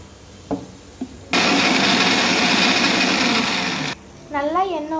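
A blender whirs loudly for about two and a half seconds, grinding lemon juice, salt, sugar and oil into mayonnaise. Brief knocks come before it, and a voice follows after it stops.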